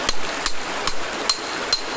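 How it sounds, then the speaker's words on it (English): A finishing hammer strikes layered rock on a beach in Courtenay, British Columbia, splitting sheets of stone with five sharp, evenly spaced metallic taps, close and loud over steady outdoor background noise. "You can put the hammer in anywhere, you don't need to find a crack, and it'll just find its own way to peel up."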